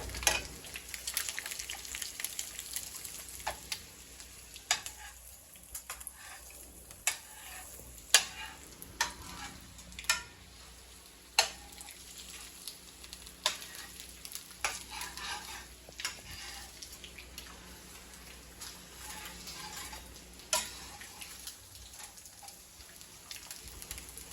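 Eggs frying in a pan, a steady close sizzle with scattered pops and occasional light spatula scrapes and taps against the pan, continuing without talk.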